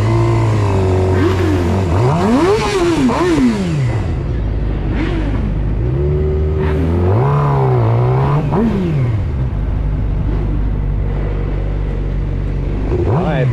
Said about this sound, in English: I'm gonna do some wheelies